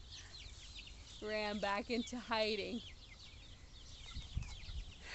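A pet chicken named Fancy Pants clucking in a backyard, a short burst of several close, nasal clucks followed by quieter ambient noise, with a person speaking briefly.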